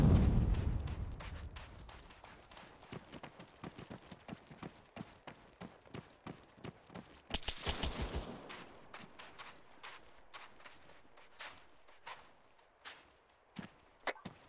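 Sharp gunfire exchanges from an ArmA 3 firefight, with repeated bursts and single cracks, some near and loud, others distant, including a dense cluster midway, continuing throughout without speech.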